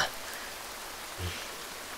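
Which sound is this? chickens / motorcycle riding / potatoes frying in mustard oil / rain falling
rain falling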